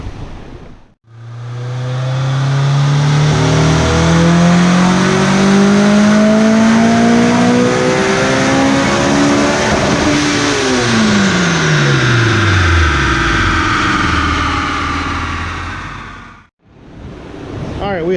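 A car on a dyno doing a third gear pull with the tires spinning, engine making 326 horsepower at 13.3 PSI of boost: one long loud rev climbing steadily in pitch, then dropping sharply as the throttle closes, engine noise filling the whole pull.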